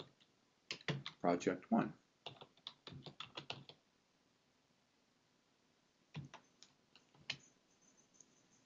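Typing on a computer keyboard at a terminal: quick bursts of close, crisp key clicks in irregular clusters, separated by pauses, with a short spoken phrase mixed in.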